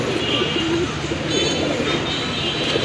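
Female pigeon cooing softly in repeated low murmurs close by, over steady background noise with no voices.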